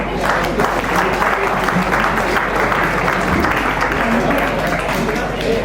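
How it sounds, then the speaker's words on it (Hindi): Applause from the audience at an Engineer's Day award ceremony at a government polytechnic college in Patna, a steady, dense clapping that fills the whole stretch without a break. "एक बार जोरदार तालियां होनी चाहिए इनके लिए।"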